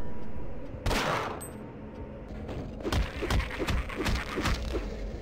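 Gunfire in the video game Signal Lost, with a sharp opening shot and then a rapid series of punchy close shots and thuds over a low ambient hum.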